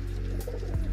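A low pigeon coo rolls out near the end amid steady loft ambience, with pigeons being raised for racing competitions in a breeding setup.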